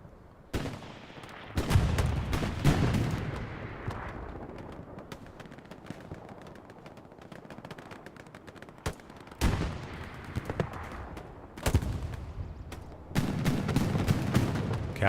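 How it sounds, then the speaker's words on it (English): Rockets and gunfire on Utah Beach in Hell Let Loose: distant booming blasts and crackling rifle and machine-gun fire, with several loud near bursts rising out of a steady battlefield rumble. "A lot of rockets."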